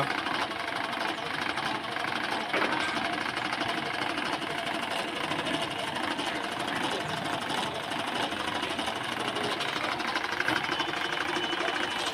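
An electric coil winding machine winds a wall fan coil, running as a steady whirring, rattling mechanical hum with a constant pitch, close and continuous throughout.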